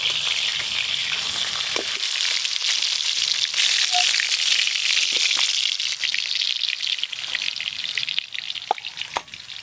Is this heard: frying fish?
yes